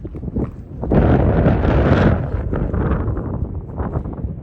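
Gusts of chilly wind on a high mountain trail buffeting close against the microphone, a loud roaring burst that eases into a rougher, fluctuating rush.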